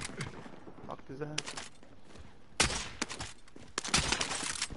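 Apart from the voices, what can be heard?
gunfire in the video game Warzone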